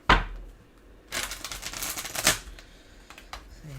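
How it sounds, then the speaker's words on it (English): A short burst of rapid tarot card riffling, crisp clicking flutter lasting about a second, followed by softer scattered taps and handling noise. "One more shuffle here."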